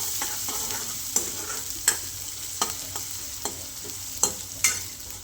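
Besan mixture with onion being stirred in a pan, a soft continuous sizzle with a series of faint, regular scraping taps from the spoon, close and quiet.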